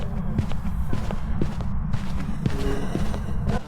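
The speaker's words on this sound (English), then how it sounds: "Listen to the footsteps." Ghost footsteps during a hunt in the horror game Phasmophobia: steady, evenly paced thuds about twice a second over a loud low rumbling game background.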